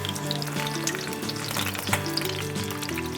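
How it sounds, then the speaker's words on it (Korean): Korean jeon pancakes frying in oil, giving a steady, close, continuous sizzle with faint crackles and no voices. "지글지글 소리만 들어도 왠지 마음이 설레는 우리 민족의 전통 음식인데요"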